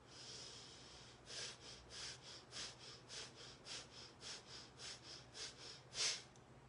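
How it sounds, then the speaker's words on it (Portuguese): Rapid bhastrika pranayama breathing, a yoga exercise of forceful nasal breaths: about fourteen quick, evenly spaced puffs follow a calmer opening breath, close and fairly soft, with no talking. "Essa é a respiração acelerada, chamada bástica, né? Pranayama da respiração bástica"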